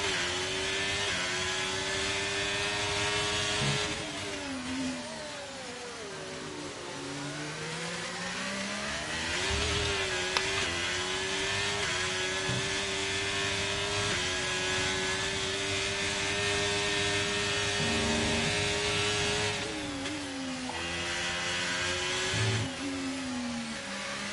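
Racing cars in a video game roar past continuously, engines whining and rising and falling in pitch as they accelerate and shift, with a Mercedes among them, loud and sustained throughout with no speech over it.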